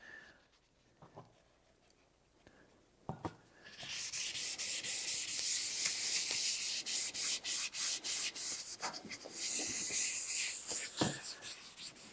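Cloth rubbing Minwax special walnut stain onto a wooden book stand, a steady scratchy swishing that starts after a few quiet seconds and runs in repeated strokes, close and fairly loud.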